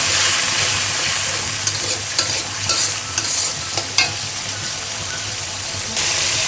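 Ginger and garlic paste sizzles steadily in a hot pan while a spoon stirs it, with a few sharp scraping clicks over the continuous frying hiss.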